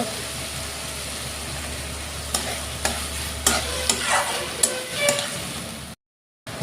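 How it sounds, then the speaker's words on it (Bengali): Chopped tomato and other ingredients fry in a pan for a dried-pea curry (muri ghonto), with a steady sizzle broken by several sharp scraping stirs of a spatula before the sound cuts out. "সাথে সব উপকরণ আমি ভাজা নিব ভালো করে"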